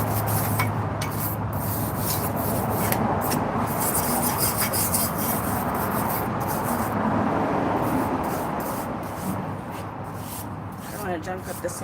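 Sandpaper rubs back and forth against the axle of a 1950 Chevy restomod in a continuous, close, gritty scraping, with strokes flowing into one another and a voice talking over it.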